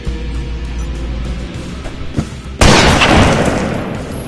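Gunfire in an audio drama: after a low rumbling bed, a sudden loud burst of shots erupts and sustains as a dense, noisy fusillade to the end.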